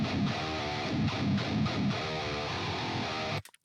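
Distorted, high-gain electric guitar playing a solo through an amp in a deathcore mix, a loud, sustained line with a steady run of notes that cuts off abruptly at the end.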